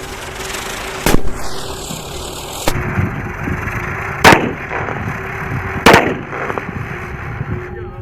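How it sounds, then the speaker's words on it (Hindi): Several 555 bomb firecrackers explode at intervals, with loud sharp blasts near and apart over a background of rumbling noise and a brief falling whistle. "इससे ही 555 बम भारी आवाज़ से फूटता है"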